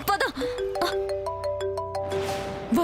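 A mobile phone ringtone plays a repeating melodic pattern of clear electronic tones, loud and close, in a Telugu TV serial scene where a car has stalled.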